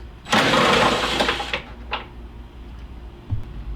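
Ratchet on 10mm headlight assembly bolts of a Dodge Dakota, a close rapid clicking run lasting over a second, followed by a couple of brief clicks and a soft knock.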